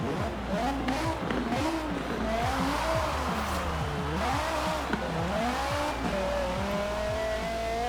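A car with a Viper V10-style engine in Forza Horizon 4 revs and accelerates repeatedly, its engine pitch climbing and dropping through gear changes with tire squeal, loud and close, with no talk.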